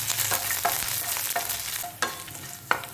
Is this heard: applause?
no